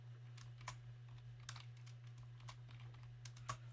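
Quiet clicks of keys on a computer keyboard, struck in irregular bursts over a steady low electrical hum, with no talking.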